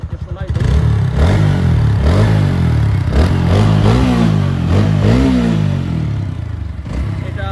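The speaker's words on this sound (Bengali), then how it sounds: "বাইকের ইঞ্জিন খুব ভালো সাপোর্ট দিচ্ছে। বাইকের ইঞ্জিনে একবারও হাত দেওয়া লাগে না, এবং সাউন্ডও খুব সুন্দর।" A TVS Apache RTR 160 4V motorcycle engine revs up several times, each throttle blip rising and falling in pitch over a steady, loud idle, close to the bike.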